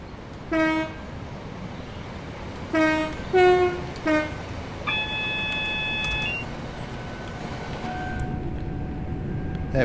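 A Northern Class 323 electric train speeds up across Glossop Viaduct in Train Sim World 3, giving several short horn toots, then a sustained rising tone over a steady rolling rumble.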